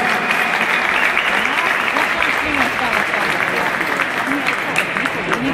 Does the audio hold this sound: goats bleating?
no